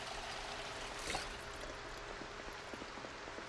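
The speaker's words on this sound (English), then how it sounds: "Let's fill up my water bottle." A water bottle is filled from a tap in the zombie survival game Project Zomboid: a continuous, moderately loud pouring trickle of water, with a brief splashier surge partway through.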